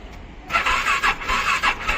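Motorbike starter cranking in a rapid pulsing series of short whirring bursts without catching, close and fairly loud, after the bike sat overnight in Kathmandu showing an error.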